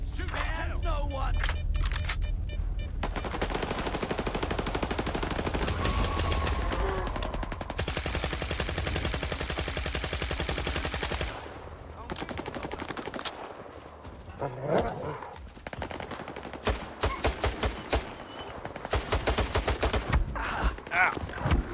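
Video game gunfire comes in rapid bursts and volleys, loud and close, with dense stretches of automatic fire broken by short gaps, while a player shouts excitedly over the action.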